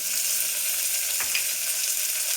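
Broad beans going into a sizzling oil tempering with curry leaves and potato for avarekaalu sambar, a steady close frying hiss with a brief stirring scrape midway.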